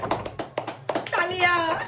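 Loud clapping from a group of kids playing a spin-the-wheel fortune game, a quick run of sharp claps with children's chatter and squeals mixed in, ending in a sustained high-pitched shout.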